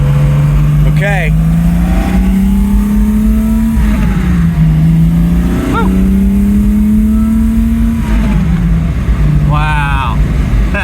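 A TVR 2500M sports car accelerates hard on an open road, its engine note rising steadily and dropping at each gear change, loud and close from inside the cabin.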